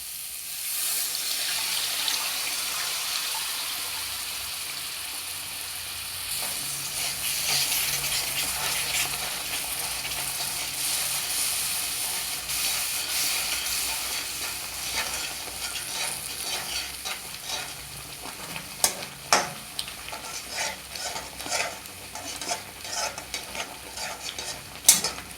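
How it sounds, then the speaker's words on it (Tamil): Tamarind water goes into a pan of oil where chilli powder has been sautéed for a broad bean tamarind kulambu. A soft, continuous sizzle runs throughout, joined later by scraping stir strokes and a few sharp clinks. "இப்போ புளி தண்ணி ஊற்றிக்கலாம்."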